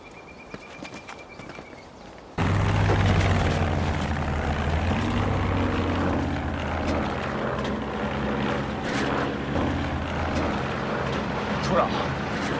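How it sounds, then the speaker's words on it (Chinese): A propeller aircraft drones overhead in a wartime drama scene, a loud low rumble that cuts in abruptly after a quiet opening and holds steady, with voices speaking around it. "这飞机绕来绕去的"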